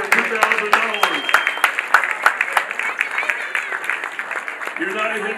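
At a live painting auction in Charleston, an indoor audience breaks into a steady round of clapping and applause that carries throughout, with voices mixed in beneath it.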